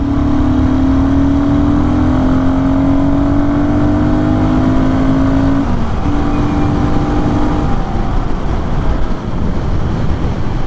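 A Royal Enfield motorcycle with a higher-revving engine than the typical Royal Enfield single drones steadily close up, rising slightly in pitch before a brief dip and recovery, with no voices.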